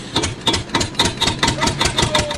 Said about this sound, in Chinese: 阿 Sir 连忙发动自己的道奇充电器。